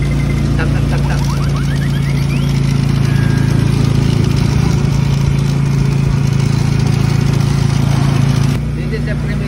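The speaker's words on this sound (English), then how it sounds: "riding a tricycle. Very bumpy road." A motorized tricycle rides over a very bumpy road, its engine droning loudly and steadily close by, with rattling jolts. The noise drops off near the end.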